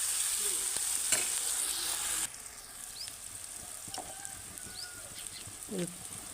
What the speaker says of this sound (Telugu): ఒక స్పూన్ సాల్ట్ వేసుకుంటూ ఉల్లిపాయలు తొందరగా మగ్గిపోతాయి